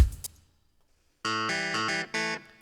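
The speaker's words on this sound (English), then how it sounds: "Let's listen to that clavinet." Clavinet from a Contact instrument in a MIDI composing template played in Digital Performer, a few bright, buzzy staccato chords after a short silence, close and clean.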